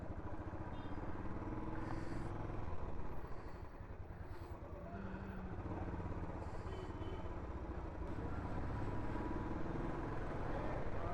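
A motorcycle rides along with a steady, faint engine drone and road noise throughout, the hum slightly rising and falling, with no talking.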